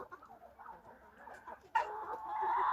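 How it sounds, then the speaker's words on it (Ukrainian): Crested hens in a backyard poultry yard cluck softly and intermittently up close, then one breaks into a louder, sustained call toward the end. "Чубаті курочки."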